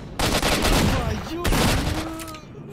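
Shotgun blasts in the video game S.T.A.L.K.E.R.: Shadow of Chernobyl, two loud booming shots about a second apart, each with a long echoing tail.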